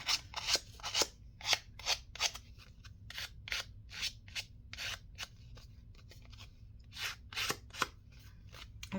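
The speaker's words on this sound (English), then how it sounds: "I'll rough up the edges." The edges of a paper journal card are roughed up with a steady series of crisp, close scraping strokes that repeat in a quick, uneven rhythm, with no talking.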